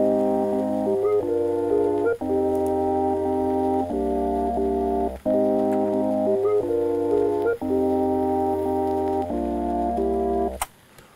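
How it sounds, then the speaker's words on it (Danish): A soft synthesizer pad plays sustained chords copied note for note from a piano part, changing chord every couple of seconds in a steady, even rhythm, alone and at a constant level until a brief cutoff near the end. "synthesizer-lyd, som lyder sådan her."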